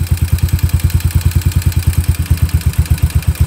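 A Yamaha SR250 single-cylinder motorcycle engine idles loud and close, a steady fast chugging beat while its air-fuel screw is turned out and the mixture runs rich, with no talk over it.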